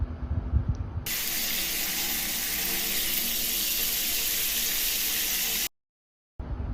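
Water runs steadily for a bath in a radio drama, a loud even hissing gush that starts abruptly, holds for about four seconds, then cuts off sharply.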